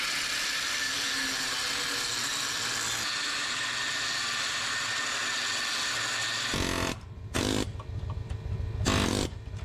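A pneumatic air chisel and grinder working rivets on a 2000 Chevrolet Silverado truck frame, a steady high-pitched grinding whine for several seconds, then broken into short loud hammering bursts with brief pauses between.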